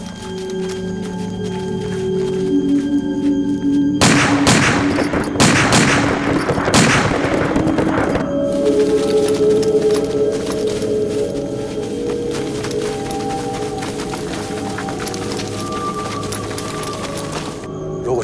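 Dense gunfire crackles through a riverside ambush scene in a war drama, a sharp burst of loud shots around the middle over steady rumbling background, with scattered further reports continuing afterward.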